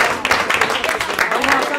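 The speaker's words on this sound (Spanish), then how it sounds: "Un aplauso para el trabajo de Luis" Applause from meeting participants for Luis's work, a short burst of scattered hand claps, moderately loud and close, with voices talking over it.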